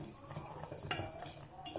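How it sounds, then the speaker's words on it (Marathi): A spoon stirring sugar syrup in a pan, with soft scraping and light clinks against the metal, quiet and close, alone without talk. "एकसारखं हलवत राहायचं आहे."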